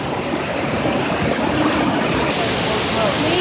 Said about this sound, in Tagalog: Welcome to our first falls.